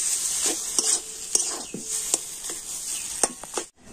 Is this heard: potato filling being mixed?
yes